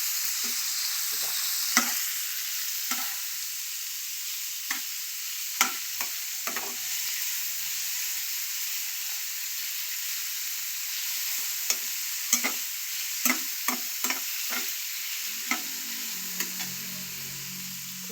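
Egg with tomato sizzles steadily in a frying pan, a constant hiss punctuated by scattered clicks and scrapes of stirring, close and alone without talk.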